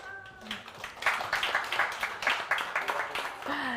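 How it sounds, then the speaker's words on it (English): Audience applause at a live startup demo day event in Kyiv, a steady burst of clapping from a crowd that swells and holds, with some voices mixed in. "Just applause for a great job of Sviat also."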